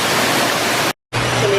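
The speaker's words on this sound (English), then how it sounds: "Got this really nice waterfall here." A waterfall in a National Aquarium tank roars as a loud, steady wash of falling water that drops out briefly before resuming.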